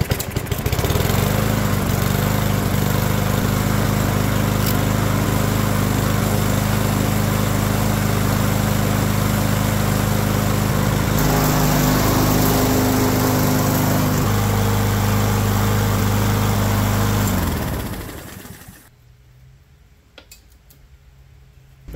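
A Yard Machines lawn mower engine, recently revived after flooding, runs loud and steady up close for about eighteen seconds with a shifting roar midway, then cuts off into near silence.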